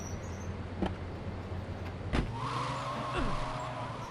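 A car in the video game GTA III: a low, faint engine hum runs throughout, with a couple of brief clunks, then a rising, whining motor tone as the vehicle moves off.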